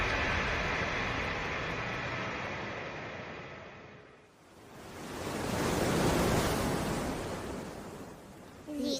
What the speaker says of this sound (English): The ocean? I can't believe there's a beach in here.